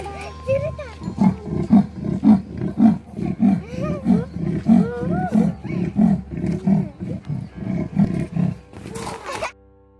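A big cat growls and roars in a steady series of deep, rumbling pulses, close and loud, ending with a sharp noise.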